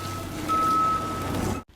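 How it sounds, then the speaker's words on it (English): Ronan's ship in Ninjago gives off a steady electronic beep tone, one clear held note over a dense mechanical background hum that cuts out abruptly at the end. "Ronan's ship has like the background like beeping noise"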